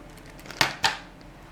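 Two crisp snips of scissors cutting through wallpaper, close and distinct about a quarter second apart, over a quiet room background.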